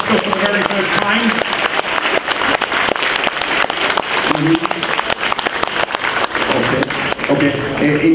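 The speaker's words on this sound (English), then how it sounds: "big, big round of applause" A big round of applause from a convention audience at TFNation 2016 fills the hall with dense, continuous clapping that stays loud throughout, with a voice briefly heard underneath.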